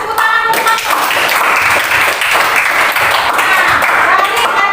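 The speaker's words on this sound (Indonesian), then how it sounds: "Iya, kasih tepuk tangan dulu, Mas." A classroom of students applauding during a lesson, loud close hand clapping that carries on steadily, with voices and chatter mixed in underneath.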